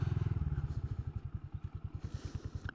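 A Honda Grom small-bore motorcycle climbs an off-road trail, its single-cylinder engine putting out a loud, steady thumping pulse that roughens and chops as the rider works the throttle over uneven ground.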